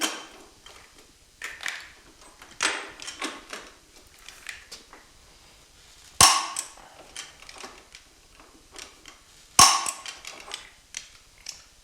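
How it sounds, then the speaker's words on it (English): The top nut on a Harley-Davidson Road King steering neck is tightened with a torque wrench: soft scattered ratcheting ticks, then two sharp, loud metallic clicks several seconds apart, close by and without speech. "I'm going to torque the top nut, which is going to give us our accurate reading."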